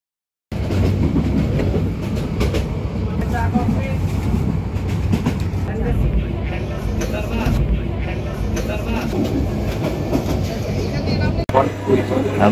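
A passenger express train runs on its rails between Cox's Bazar and Dhaka, with a steady, loud rumble and rhythmic clatter of the carriages throughout and voices of people talking in the background.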